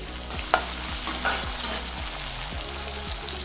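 Steady oil sizzle from a chopped medium-sized onion frying, with a few soft stirring scrapes and light clinks of a utensil against the pan.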